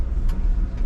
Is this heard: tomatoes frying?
no